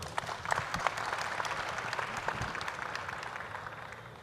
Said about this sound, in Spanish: Un aplauso para Ocarina, por favor.